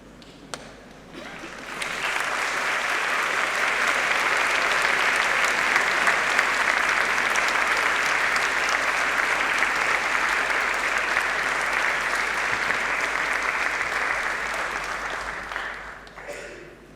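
A large graduation ceremony audience at the University of Manchester bursts into sustained applause for supporters, swelling quickly after a quiet start, holding thick and even for many seconds, then tapering off near the end.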